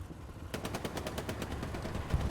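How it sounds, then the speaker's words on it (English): Rapid bursts of machine gun fire in the WWII shooter Hell Let Loose during a competitive match, a steady rattling stream of shots that starts abruptly and keeps going loud and close. "Why are Gironi, Big X, and Book shooting their own guy with the MG?"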